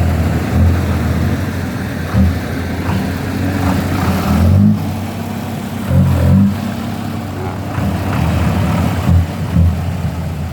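A Hino truck's diesel engine rated at 168 horsepower runs at idle with a steady low rumble, broken by several short revs that swell and fall back, heard up close outdoors.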